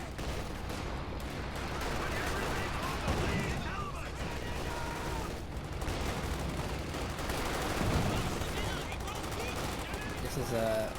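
Constant gunfire and explosive rounds in the World War II strategy video game Company of Heroes, rattling bursts and thumps layered into a dense, continuous battle din, with a caster speaking over it throughout.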